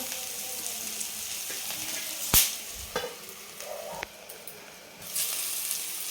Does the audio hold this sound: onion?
yes